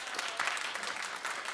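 Studio audience at a daytime talk show clapping on cue, a dense, continuous burst of applause that swells briefly and stays loud for the whole short stretch.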